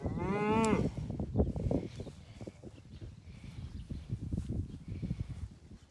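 Cattle on a farm with a calf, one loud drawn-out moo up close at the start, then quieter shuffling, hoof steps and farmyard movement.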